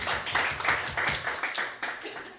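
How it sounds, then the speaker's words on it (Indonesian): A church congregation at a Sunday service claps together in a lively, dense burst, fairly loud and close, with irregular accents and no talk over it. "Tepuk tangan buat diri sendiri."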